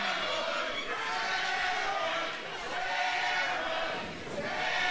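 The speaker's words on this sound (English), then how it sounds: "I paused because I wanted to listen to the crowd and see what they were chanting, and it is steroids." Wrestling crowd at an NWA Midwest Championship Wrestling event chanting "steroids" in unison, a steady, loud, roaring arena chant with rhythmic swells, heard from within the crowd and without clear commentary over it.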